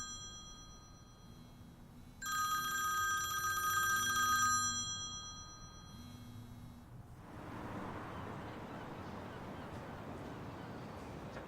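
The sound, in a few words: telephone ringing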